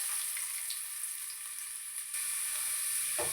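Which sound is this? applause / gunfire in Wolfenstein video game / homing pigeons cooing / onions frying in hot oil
onions frying in hot oil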